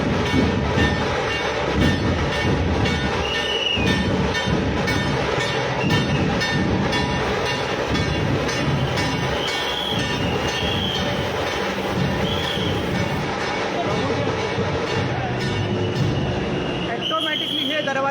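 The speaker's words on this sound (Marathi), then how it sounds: "दरवाजे बंद होतात या वंदे भारत ट्रेनचे आणि ही गाडी पुढील प्रवासासाठी रवाना होत आहे" A Vande Bharat train pulls out of Kankavli station with a continuous rolling rumble and rattle of wheels and carriages, occasional faint squeals, and a crowd and voices talking over it throughout.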